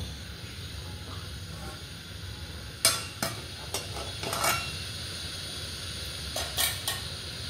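Food sizzles steadily in a hot pan, with sharp metallic spatula scrapes and clinks as pieces are lifted out one at a time, close up and without talk.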